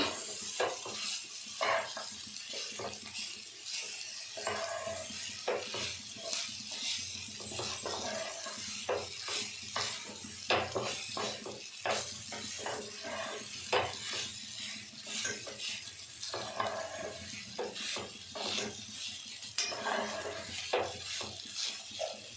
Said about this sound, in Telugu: ఇవన్నీ బాగా వేగిన తర్వాత దాంట్లో బాయిల్డ్ రైస్, అన్నం పలుకులుగానే జాగ్రత్తగా కలుపుకుంటూ మిక్స్ చేసుకోవాలి